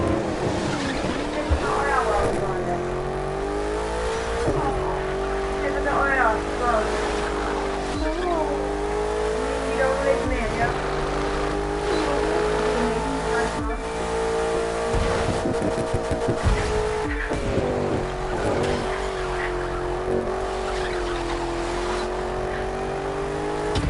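Race cars in The Crew 2 roaring and shifting through gears, engines rising and falling continuously with repeated tire squeals and skids, loud and close throughout the whole stretch.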